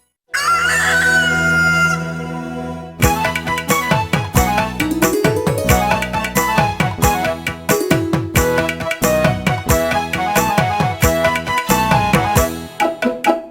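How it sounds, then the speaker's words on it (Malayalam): A rooster crows loudly at the start of a Malayalam children's cartoon song, then lively music with steady drums and percussion takes over. "കൂവിയറിയിക്കാൻ കോഴി വന്നു"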